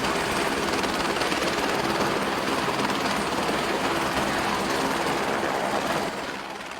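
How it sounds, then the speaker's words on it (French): Helicopter on a military operation against terrorists, its rotor and engine roaring as a steady broadband drone throughout, loud and continuous, easing slightly at the very end. "Vous voyez, l'hélico est déjà là."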